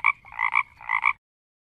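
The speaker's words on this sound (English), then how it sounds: "Frog." A frog croaks in a quick series of rasping, buzzy calls, clear and close with no other sound around it, ending abruptly after about a second.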